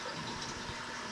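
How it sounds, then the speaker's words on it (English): Water rushes and gurgles faintly into a Fluval 406 aquarium canister filter, a short, soft continuous flow. "you can hear the water rushing into it right now."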